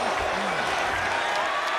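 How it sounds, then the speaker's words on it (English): A large arena crowd applauds two wrestlers at an AEW event, a dense, steady wash of clapping with a commentator talking over it. "Thousands of people here on their feet clapping in appreciation for these two athletes."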